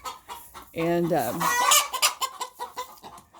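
A flock of hens in an enclosed coop, loud overlapping clucks and squawks with a brief rising crow-like call, close and busy, while a person speaks a word.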